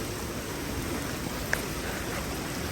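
Steady rain falls outdoors as a continuous, even hiss of moderate loudness, with one brief click partway through and no talking over it.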